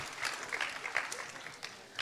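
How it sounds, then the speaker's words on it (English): Brief, light applause from a small audience, scattered clapping at a moderate distance. "Give yourself a round of applause."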